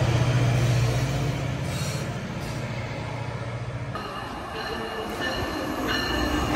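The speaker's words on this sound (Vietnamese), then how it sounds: "Hôm nay gia đình mình có một chuyến trải nghiệm đi bằng xe lửa từ đường Blue Station đến phi trường Toronto" Passenger train on the Toronto run from Bloor station to Pearson Airport, heard from inside the car as a steady loud rumble of wheels on rails with faint squeals and hiss, continuous and unbroken with no voices.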